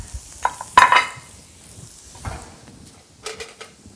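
Shrimp and tomatoes in a pan give a faint frying sizzle under sporadic clinks and scrapes of a utensil against the pan, with a few sharper knocks spaced across the moment.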